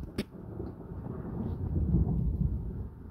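Thunder from a strong storm on 12 March 2025 rumbles low and deep, building through the clip into a long rolling growl, with a brief sharp click near the start.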